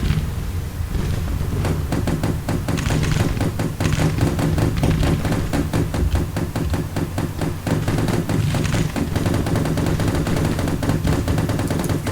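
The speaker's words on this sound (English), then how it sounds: "Third Brigade coming under Gatling fire, walking over obstructions, over a ford, straight into the teeth of Mississippi rifles." Rapid Gatling gun fire in Grand Tactician: The Civil War, a dense, continuous crackle of shots with overlapping rifle volleys in an American Civil War battle, loud and sustained throughout.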